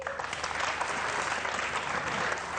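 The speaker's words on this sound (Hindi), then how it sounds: "पहले तो तालियां जी" An audience on a live iftar broadcast claps steadily in a full, even wash of applause that runs throughout without pause.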